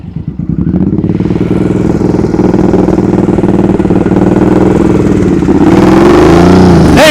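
A motorcycle engine runs at low speed throughout, with a steady, loud, close throb and mechanical clatter, then rises in pitch near the end as the throttle opens.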